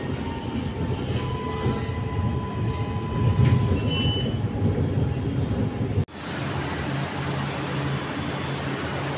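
Milan metro train standing at the terminus, a loud steady rumble and whine of the train filling the space, with a sudden shift to a brighter, hissing electrical drone partway through; no talking.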